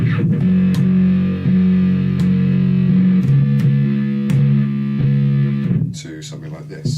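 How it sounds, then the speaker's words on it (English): An electric guitar played through a filtered wah setting rings out sustained, nasal-toned notes and chords in a steady phrase, loud and close, with a brief scratchy strum near the end. "to a sort of filtered sound, which I get using the wah setting"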